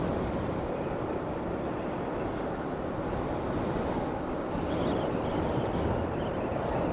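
Strong wind buffets a microphone outdoors in front of a residential housing area, making a loud, steady, unbroken roar with no clear gaps.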